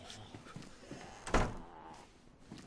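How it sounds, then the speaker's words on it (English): A single door closing in a PS4 video game, one soft thunk midway through over a quiet game background. "let's close that door"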